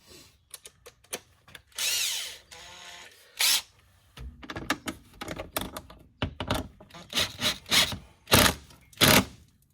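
A power tool drives a 10 mm bolt into a Polaris RZR rear fender extension. Short, close whirring bursts start and stop in an irregular rhythm, with brief pauses between them.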